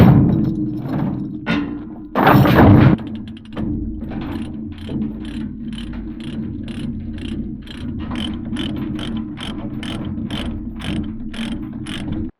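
A ratchet load binder clicks steadily as chains are tightened over a truck load, a close, regular series of metallic ratcheting clunks after a brief louder burst of noise early on.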